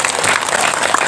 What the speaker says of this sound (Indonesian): Tepuk tangan tuh Pak polisi.